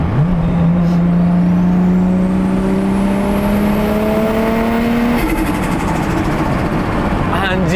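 A Toyota Supra MK4 fitted with a new blow-off valve revs hard through the gears, its engine note climbing in long sweeps before a shift and a sharp release hiss, loud and close from inside the car.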